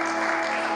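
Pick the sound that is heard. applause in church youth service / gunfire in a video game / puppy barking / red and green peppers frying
applause in church youth service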